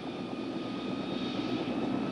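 Turbine engine of an OH-58A Kiowa helicopter spooling up as the throttle is slowly increased to full, giving a steady, loud whine with a broad roar beneath, continuous and alone, with no voices.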